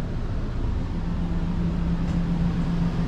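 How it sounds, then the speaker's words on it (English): Two Coleman Mach whisper quiet rooftop air conditioners in a new 2022 Keystone Cougar 364B camper hum steadily, a low droning tone over a constant airy rush, loud and unbroken throughout. "Two Coleman Mach whisper quiet air conditioning units found on board this new 22 Cougar"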